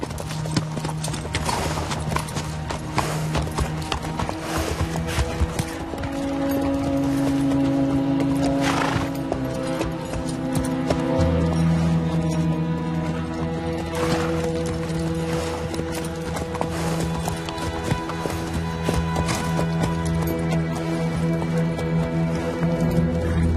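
Horse hooves clip-clop in a steady rhythm under a layered music score, the beat persisting throughout with no voices.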